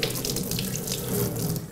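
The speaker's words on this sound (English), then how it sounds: "it's no problem to hold it under running water" Tap water runs steadily over a measuring sensor held beneath it for rinsing, giving a close, continuous splashing rush.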